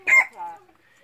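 Short clucking call from a cock or hen of a rare jungle-fowl-like decoy chicken breed, a loud burst then a softer follow-up, close by with no speech.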